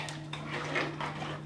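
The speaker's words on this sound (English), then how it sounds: "Stir that in a little bit." A spoon scrapes and clinks in a bowl as soy milk is stirred into pumpkin pie filling, producing a few brief stirring strokes over a low background hum.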